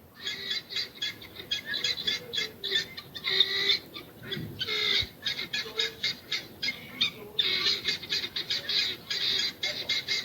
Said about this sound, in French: Voici un son de pintade.